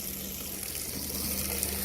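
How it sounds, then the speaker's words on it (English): Water running steadily through French drain pipes, a constant hissing, gushing flow with no breaks and no talking. "you can see how the water just runs right through the top pipes into the two bottom pipes"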